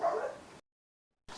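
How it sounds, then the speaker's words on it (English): Dogs yip and whimper nearby through an open back door, a short burst of small excited barks that cuts off abruptly, with a brief return at the end. "I apologise for the dogs barking, the back door is open"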